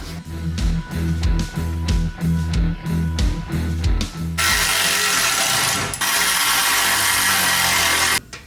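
Ratcheting wrench work while reinstalling the exhaust on a 1965 Ford Mustang, a run of close, rhythmic clicking bursts followed by a steady, loud whirring power-tool sound lasting several seconds.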